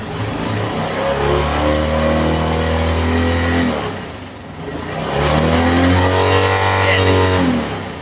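A Honda Wave 125i motorcycle engine revs up loudly twice, its pitch climbing and holding before easing down between the two long, close bursts.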